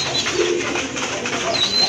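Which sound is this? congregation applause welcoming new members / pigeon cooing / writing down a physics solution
pigeon cooing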